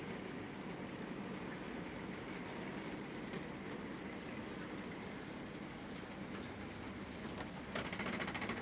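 An OO gauge model steam train, a Tommy the Tank engine pulling goods wagons and a brake van, runs steadily with a continuous close rolling rumble and faint clicking along the track, with no talking.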